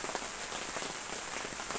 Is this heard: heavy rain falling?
yes